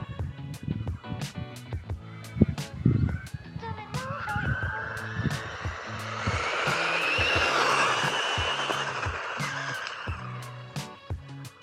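An AM-X12T(C) RC car takes throttle gradually. Its electric motor rises into a sustained high whine with some tire noise, which swells and then fades, while clicks and a person's voice come and go underneath.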